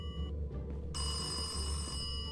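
A telephone rings inside the Indian horror video game Surviving Kamla, its steady electronic bell tone sounding alone and fairly loud across the whole moment, with no one talking.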